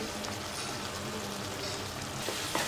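Onions and spices sauté in hot oil for garlic kuzhambu (poondu kuzhambu). A soft, steady crackling sizzle runs throughout, with a couple of faint clicks near the end.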